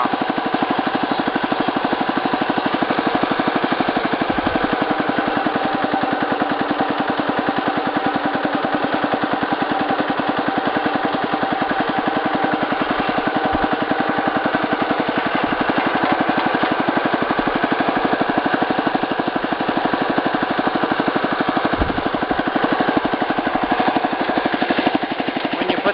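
A Wheel Horse 875 garden tractor engine runs steadily nearby with a fast, even mechanical pulse and a constant drone, its occasional low thumps unchanging throughout, with no talking.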